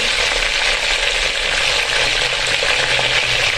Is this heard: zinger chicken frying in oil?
yes